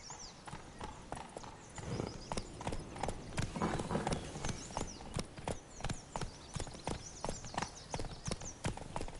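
Hooves of Roach, the horse in the video game The Witcher 3, clip-clop in a steady, close rhythm throughout, loud and clear with a brief whinny mixed in.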